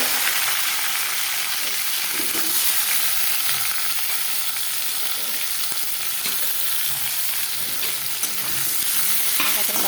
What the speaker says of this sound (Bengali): এই যে কাঁঠালটা হালকা আছে একটু ভেজে নিলাম।